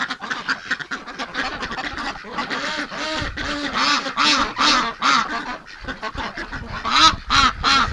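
A flock of farmyard ducks quacks loudly and close by, rapid overlapping calls in uneven bursts with short gaps, some honk-like notes mixed in, and no talking.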